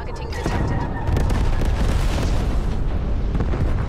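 An artillery strike in a video game shooter sets off sustained loud explosive rumbling and crackling booms.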